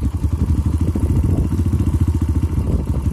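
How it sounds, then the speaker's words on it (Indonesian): A motorcycle engine idles close up with a rapid, even, pulsing chug and slight clatter, its revs holding fairly steady over the short stretch as the handlebars are turned. "Tapi kalau saya belokin pasti naik sendiri tanpa digas."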